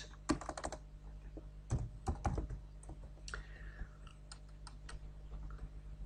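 Typing on a computer keyboard during a Python programming lesson: irregular bursts of close, crisp key clicks with short pauses between, alone over a low steady hum.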